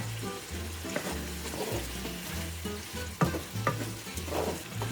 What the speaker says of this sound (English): the pasta, it's been cooking, and it's almost ready